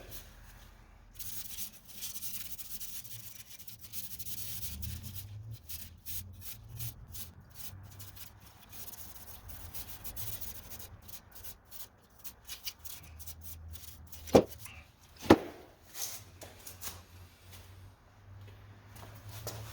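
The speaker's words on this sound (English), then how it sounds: "we just want to scratch these primered surfaces up" Primered Harley-Davidson tins scuffed by hand to etch the primer, a quiet, steady rubbing and scratching with a couple of sharp knocks near the end.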